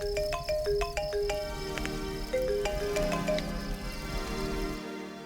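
A mobile phone rings in a South Indian film scene, playing a bright, repeating electronic melody of quick tones at moderate loudness before cutting off abruptly near the end, with no talking.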